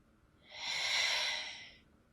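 A single slow, deep exhale held during a yoga pose, rising gently and fading as a soft airy breath in an otherwise quiet room.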